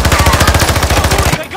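Rapid automatic gunfire in a shooter game, a steady loud rattling burst of evenly spaced shots lasting over a second before cutting off abruptly.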